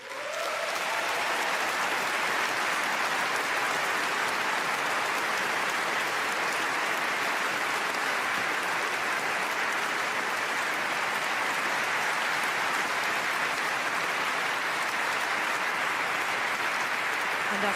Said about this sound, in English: And after warm applause